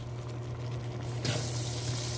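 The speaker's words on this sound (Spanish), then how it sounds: "Ahora voy a ponerle un poquito más de agua" Water poured from a container into a pan of potatoes cooking on a stove, a steady splashing hiss that swells partway through, over a low hum of the burner.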